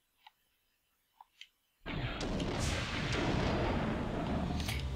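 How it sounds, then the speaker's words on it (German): A loud explosion goes off in the Blood Omen: Legacy of Kain video game, bursting in suddenly and roaring on as a broad sustained blast after a few small clicks, with no talk over it. "Nicht mit mir, wir machen die Explosion."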